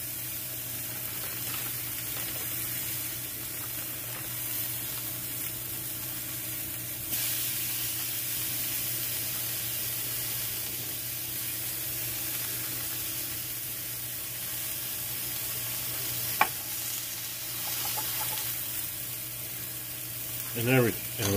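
Beef burger patties sizzle steadily in a pan for a cheeseburger cook, a continuous frying hiss with a brief clink near the end.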